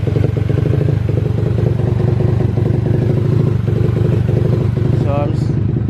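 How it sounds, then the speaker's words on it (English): A pit bike engine idles while warming up after sitting unused for about half a year, a close, loud, steady putter with a rapid pulsing beat, and a voice speaks over it. "Let the bike warm up for now because I haven't started it in for like almost half a year"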